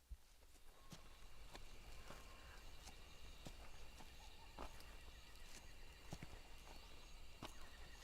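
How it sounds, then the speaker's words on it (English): Slow, regular hoof clops of a horse walking in the video game Metal Gear Solid Delta: Snake Eater, faint and somewhat distant over a steady background hiss. "Hey, there's a horse. Is that a horse?"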